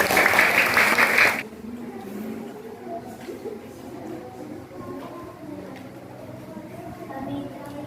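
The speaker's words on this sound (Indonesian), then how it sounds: "tepuk tangan untuk kelompok pangeran" A short burst of classroom applause for a student group, loud, dense clapping that cuts off after about a second, leaving quiet room noise and faint murmuring.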